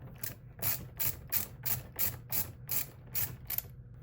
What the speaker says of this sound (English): First thing is going to loosen this hose clamp.